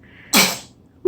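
A young girl sneezes once, a sharp close burst that fades quickly, followed by a brief start of a voice at the very end.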